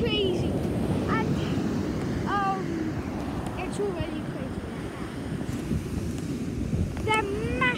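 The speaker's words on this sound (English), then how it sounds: "They're massive waves." Massive sea waves surge under strong gusting wind, a constant loud roar with buffeting on the microphone, while a person talks briefly over it.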